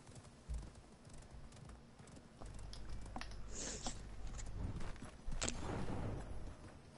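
Steady clip-clop of horse hooves trotting at an even pace in the video game Realm Royal, fairly quiet, with faint game sounds behind and no talking.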